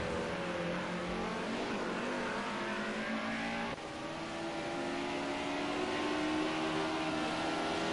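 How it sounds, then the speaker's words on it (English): BMW race cars battling at Zolder in a racing video game, engines droning and revving steadily at close range throughout, with no talk over them. "it looks like we could end up having a bit of a battle here between the two BMWs of Tim and Big Bloody B."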